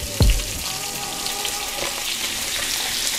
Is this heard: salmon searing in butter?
yes